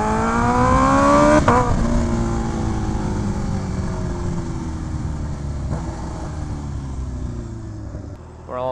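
A Kawasaki Ninja H2R motorcycle engine while riding, loud and close, with rising revs and gear shifts early, then a steady cruising drone under wind noise.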